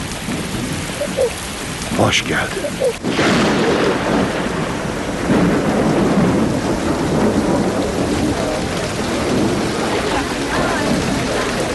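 Heavy rain with thunder, loud and steady, with a rumble building midway, and a voice speaking briefly beneath the downpour.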